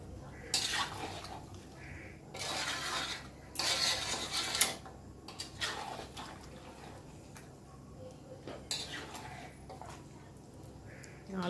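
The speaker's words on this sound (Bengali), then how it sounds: "আলু দিয়েও বেশ কিছুক্ষণ কষিয়ে নিলাম" Mutton and potatoes being sautéed in a pot at home: intermittent bursts of spoon-scraping and stirring, some loud and close, over a low steady background hum.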